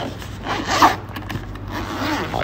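Close, scratchy zipper pulled open on a fabric carrying case holding a car battery jump-starter power bank kit, one continuous rasping run with slight rubbing and handling noise.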